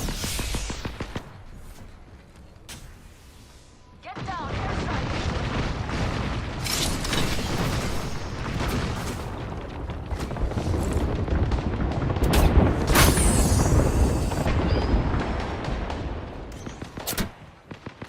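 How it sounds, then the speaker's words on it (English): Airstrike explosions in a Colorado versus Texas A&M war video game: scattered gunshots, then a sustained rumbling barrage of loud booms and blasts building to heavy detonations, with sharp cracks near the end. "Get down, airstrike."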